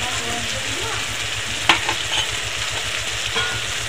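Mustard, poppy seed and coconut paste masala with turmeric frying in a pan, a dense, loud, continuous sizzle with a low steady hum beneath and a few stirring knocks, close and without voices.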